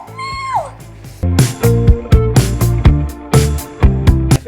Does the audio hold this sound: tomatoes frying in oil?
no